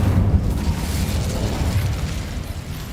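The Incendio fire spell cast in Hogwarts Legacy, a dense roaring whoosh of flame with a low booming body, sustained and gradually fading, with no voices.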